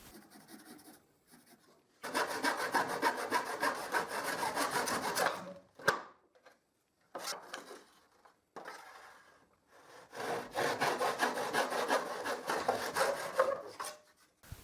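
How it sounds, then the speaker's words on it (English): A hand saw cuts through a piece of plywood in two long bursts of rhythmic rasping strokes, close and steady, separated by short pauses with a few knocks. "I cut the piece of plywood,"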